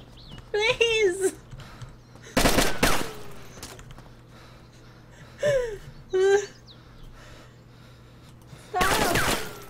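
Loud bursts of gunfire in a video game set in Berezino crack out in several separate volleys, mixed with a shouting voice and bird calls in between.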